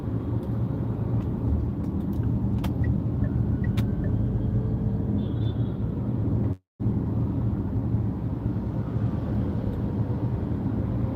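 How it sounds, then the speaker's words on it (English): A BAIC X55 SUV rolling over a brick pavement, heard from inside the cabin as a steady low road rumble and tire drone, with a brief dropout partway through and no talk. "So I'm going over a pavement, a brick pavement."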